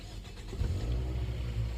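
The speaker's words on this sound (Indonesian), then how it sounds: "langsung kita tes dulu starternya guys." A second-generation Toyota Vios engine cranks briefly and catches, settling into a steady idle close by.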